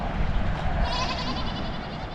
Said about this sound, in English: Got Billy the goat over here. Well, he's a little talkative.